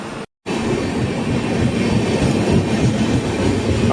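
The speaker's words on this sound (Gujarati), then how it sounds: "એ આ ટ્રેન." A train rumbles past nearby with loud, continuous clattering of wheels on rails, steady throughout after a brief dropout at the start.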